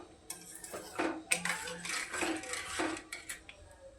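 A metal spoon stirs tomato sauce in a pot, giving soft scraping swirls and light clinks against the pot's sides, close and quiet.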